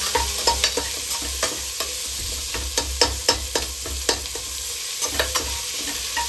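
Ingredients fry in a pan for a fenugreek rice dish, with a loud continuous sizzle and rapid, regular spatula scrapes and taps close by.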